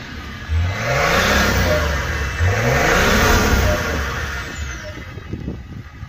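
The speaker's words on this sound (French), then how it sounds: "Le beau petit bruit et le petit turbo qu'on entend, la dépression." A Range Rover L322 engine revs up loudly twice, climbing in pitch with each rise, a turbo whistle and whoosh audible before it settles back down.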